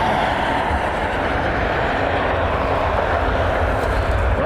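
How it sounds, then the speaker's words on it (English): A jet airliner taxiing at Cleveland Hopkins airport gives a steady, broadband engine roar at moderate distance that holds without a break. "Well, now it's taxiing over. It's taxiing him back."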